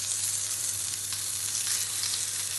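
John Stone beef steaks, côte de boeuf and sirloin, sear in a hot pan with a steady, close, even sizzle that does not pause throughout.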